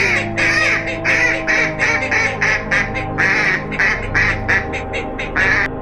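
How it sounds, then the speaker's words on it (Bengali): Cartoon ducks quack loudly and insistently in quick repeated bursts, close up, over a low steady hum. "তাড়াতাড়ি করে হাঁস মুরগিগুলো ঘরে ঢুকিয়ে দেই।"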